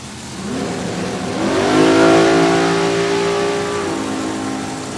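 A Top Sportsman Camaro drag racer driven by Jim Thorpe makes an NHRA run at Thunder Valley Motorsports Park, its engine note climbing into a loud, sustained rev before holding steady as it passes.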